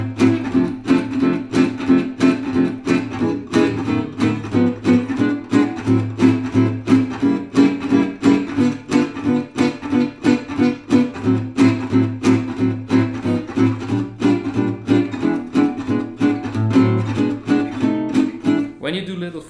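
Gypsy jazz rhythm guitar chords, with quick upstrokes slipped in before beats one and three: a dense, swinging stream of percussive strummed chords, played solo and close for about twenty seconds.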